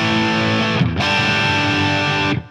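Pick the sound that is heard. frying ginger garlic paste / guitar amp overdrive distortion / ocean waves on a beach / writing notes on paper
guitar amp overdrive distortion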